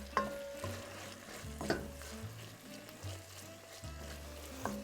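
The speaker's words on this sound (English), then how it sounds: "I'm going to keep stirring this just a little bit so all of that garlic hits the pan and can soften" Garlic fries in a pan while being stirred, a quiet, steady sizzle under repeated scraping and knocks of a utensil against the pan, close by with no speech.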